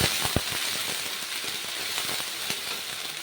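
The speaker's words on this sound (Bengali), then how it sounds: "পেঁয়াজটাকে এখন মশলার সাথে ভালো করে ভেজে নেব" Onion paste frying with spices in a pan for chicken maharani, a dense steady sizzle with occasional spattering pops, close and continuous.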